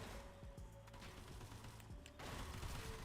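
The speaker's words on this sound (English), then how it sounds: "I hear motherfuckers just popping off shots, wasting ammo." Distant gunshots in the first-person shooter SULFUR: faint, scattered pops and short bursts over a low ambient drone, with a brief mechanical clatter and a louder wash of noise near the end.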